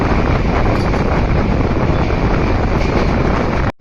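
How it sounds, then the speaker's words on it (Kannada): A train bound for Jaipur from Bengaluru runs at high speed, a loud, continuous, close roar of wheels and rushing wind buffeting the microphone that cuts off abruptly at the end. "ಇವಾಗ ಟ್ರೈನ್ ಮೂವ್ ಆಗ್ತಿದೆ"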